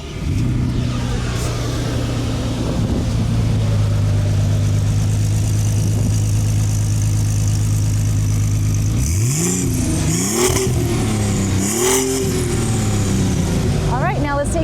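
A Volkswagen Golf GTI concept engine with a reinforced Phaeton transmission runs at a steady loud drone, then revs up and down in several rising and falling sweeps near the end, with a voice talking over it.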